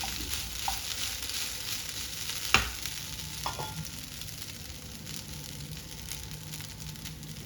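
Faint scraping and light knocks of a spoon stirring tomato rice in a pot, with soft sizzling underneath and one sharper clink near the middle.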